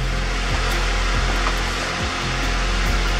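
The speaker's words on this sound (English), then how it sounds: "Now a heat gun." A heat gun blowing hot air while working on a Transit Connect MK1 headlight, a loud, steady whirring blast with a constant fan drone throughout and a few faint knocks.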